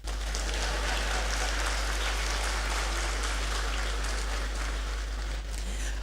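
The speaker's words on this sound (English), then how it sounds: "I pause for the applause." Steady, dense applause fills a university congregation ceremony hall from start to finish, with a constant low hum running underneath.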